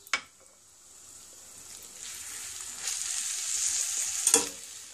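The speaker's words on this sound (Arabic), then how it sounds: "الزبدة ديالنا دابت، غادي نوضعو هاديك بالصيبة" Melted butter and flour cooking together in a pan for béchamel, a faint hissing sizzle that slowly builds, with a couple of sharp utensil knocks at the start and near the end, no talking.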